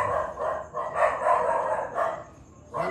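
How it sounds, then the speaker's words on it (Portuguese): A werewolf howl sound effect, a series of drawn-out, wavering howling calls at moderate volume, repeated several times with short gaps between them. "Eu conheço esse uivado de longe."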